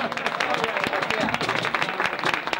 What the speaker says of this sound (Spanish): Fuerte aplauso para todos nosotros.